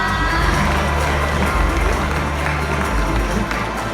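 A crowd at a launch event for a Lumpini condominium project cheers and claps loudly. Excited shouts and applause blend over a heavy low rumble from the venue's speakers, with a few scattered voices mixed in.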